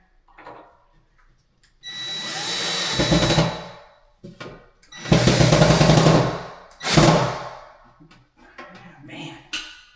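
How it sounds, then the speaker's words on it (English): A power drill drives a screw into a TEN49 real wood rustic floating shelf during wall mounting, with three loud whirring bursts that each last a second or more and are separated by short pauses and faint handling noise. "Oh, you drilled right in there."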